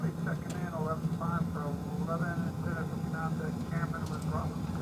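Inside the cockpit of a Boeing 737-800NG lined up on runway 30L at Dubai International Airport, a steady low engine rumble builds under continuous pilot and radio talk.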